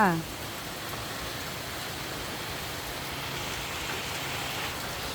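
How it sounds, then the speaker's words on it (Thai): Heavy rain pours steadily onto surfaces around an open pavilion, a dense, even hiss that stays loud and constant throughout, with a brief voice at the very start. "พอดีมาหลบฝน เห็นไหมก็ดีอย่างหนึ่งนะคะ ก็คือเราได้มาหลบฝน"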